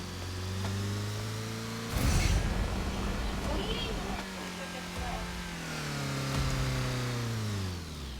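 Cars race in the Roblox Driving Simulator video game, a synthetic engine revving and whining in steady tones that rise and fall, with a noisy burst near two seconds and a voice talking over it.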